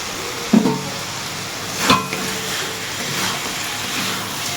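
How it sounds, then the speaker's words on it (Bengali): Crab and potatoes frying together in oil with spicy masala for a restaurant-style crab curry, a steady soft sizzle broken by a couple of sharper clatters as the pan is stirred, close up and without voices. "এবার আলু আর কাঁকড়াটা একসঙ্গে দিয়ে ভালো করে কষাবো"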